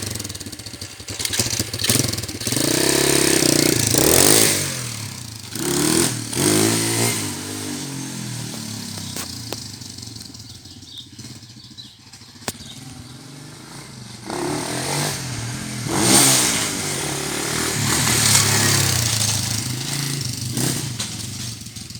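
A YCF 125 four-stroke motorcycle engine revs repeatedly, rising and falling in pitch, with a quieter idling stretch between bursts of throttle.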